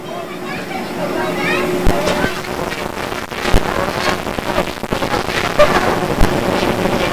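Steady gusting wind roars across the microphone, a continuous rushing noise with occasional knocks and thumps beneath it.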